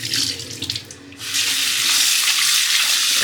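Tap water runs steadily into a sink while washing rice for Hyderabad-style biryani, loud and close, with a brief dip near the start before the stream settles into a continuous rush.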